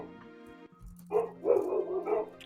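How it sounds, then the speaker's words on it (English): Dogs bark loudly in an alleyway, several sharp woofs in a quick run after a brief low hum and a soft thud. "the dogs are really loud in this alleyway"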